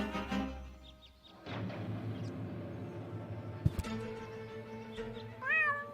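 A cat meows repeatedly in the video game Diponia, a few distinct plaintive calls rising and falling, near and fairly loud against a quiet game background, with no speech.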